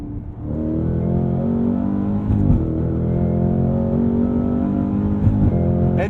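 A Mercedes-AMG GT63 S engine pulls hard under acceleration, a loud, continuous rising roar with a brief dip and surge at each gear change, heard close from inside the car.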